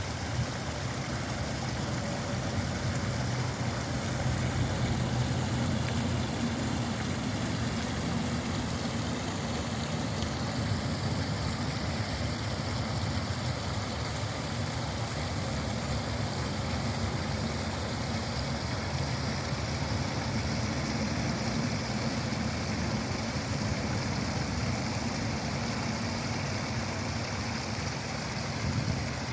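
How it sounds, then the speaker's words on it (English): Steady interstate highway traffic heard from a public rest area in North Carolina, a continuous broadband rumble and hiss of passing vehicles with no clear breaks, moderately loud throughout and with no talking. "The noise you hear in the background is the interstate traffic"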